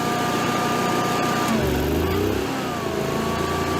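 A car engine with a known fault revs up and settles back, loud and close, its pitch rising and falling unevenly, with no talk over it.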